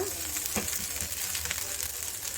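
A poha and rice flour breakfast pancake fries in oil or ghee on a pan, a steady close sizzle with a few faint scraping touches, no voices.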